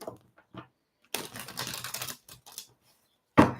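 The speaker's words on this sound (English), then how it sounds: "I'm going to do 2 more shuffles, and then we're going to pull your cards here, Calicia" Tarot cards being shuffled by hand during a live psychic reading, brief crisp riffles and taps, one longer rustling run, then a sharp snap at the end, close and otherwise quiet.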